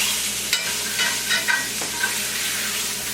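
Rack of lamb searing in a pan while being moved around to brown all sides: a bright, steady, fairly loud sizzle with a few short scrapes and shifts of the meat, no talk.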